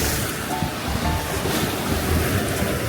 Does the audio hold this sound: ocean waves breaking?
yes